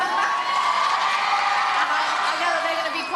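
A large crowd dressed in green cheers and whoops at a Gladiators TV show arena event, a steady, loud roar of high voices with no pauses across the whole stretch, with a speaking voice faintly under it.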